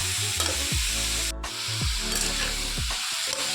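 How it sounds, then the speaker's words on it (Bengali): Vegetables with turmeric and salt stirred in a pan for a Bengali shukto, a constant sizzle with spatula strokes and a low tonal hum sliding in and out beneath, no speech. "এবার এটাকে ভালো করে মিলিয়ে দিচ্ছি"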